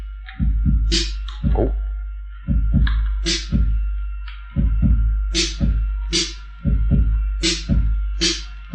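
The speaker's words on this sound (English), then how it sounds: "the snare usually plays on 2 and 4" Roland drum machine pattern of deep kick drums with a bright snare cracking on beats 2 and 4, a steady, loud looping groove heard alone with a brief exclamation over it.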